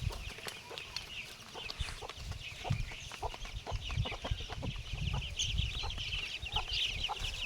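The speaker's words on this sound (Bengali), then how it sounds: "ডিমের মুরগিগুলো একটু বন্ধুদের ভালো করে দেখো" Egg-laying domestic hens cluck steadily in a flock, with overlapping clucks and calls running throughout at close to moderate distance, over a low rumble of background noise.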